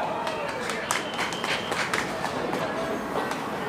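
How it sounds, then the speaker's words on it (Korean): Applause from an audience at a live Korean music stage show, a dense steady wash of clapping filling the whole moment, with crowd voices mixed in underneath. "박수 부탁드릴게요."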